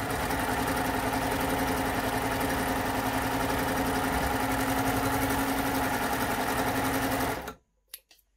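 A baby lock Euphoria coverstitch machine runs a steady, fast continuous stitching hum with automatic needle tension, loud and close, for about seven seconds before stopping abruptly, followed by a couple of faint clicks.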